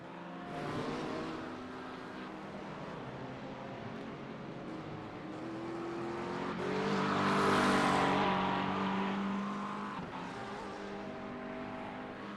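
GT race cars at full speed around the Oulton Park circuit, a loud sustained engine roar that swells as cars pass near, then eases, with overlapping engine tones throughout.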